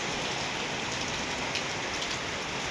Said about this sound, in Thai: ฝนก็ตกยังบ่เศร้าเลย